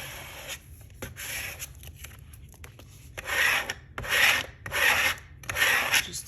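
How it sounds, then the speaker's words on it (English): A small squeegee rubs transfer vinyl onto a glass can in repeated short strokes, each pass a soft rasping scrape, growing louder and more rhythmic in the second half, close up with no talking. "I'm going to just use this little squeegee. Make sure that it picks up the vinyl."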